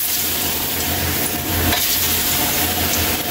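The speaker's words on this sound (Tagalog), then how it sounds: "Salang mo natin yung saging Kaylee. Fried muna natin siya." Banana pieces fry in hot cooking oil, giving a loud, continuous sizzle with faint stirring and crackle close by and no talking.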